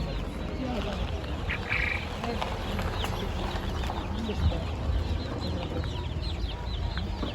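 Geese and chickens at a poultry market in Ankara cluck and honk at moderate distance against a busy outdoor background, with people talking nearby over the birds.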